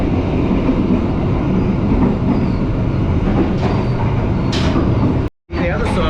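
An economy class train running from Jakarta to Yogyakarta fills the cabin with steady, loud rumbling and rattling heard from inside the carriage, continuous apart from a brief dropout near the end.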